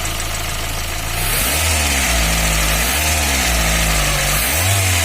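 A Fiat Uno Evo with a Fire engine revs repeatedly from idle, several rising and falling surges of a loud, close motor in a steady rhythm, with no voices.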